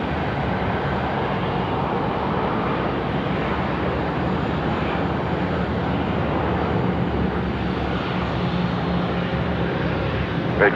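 A Rex Saab 340 turboprop approaches to land on a runway at Sydney Airport, heard as a continuous, broad engine roar that holds steady at a distance.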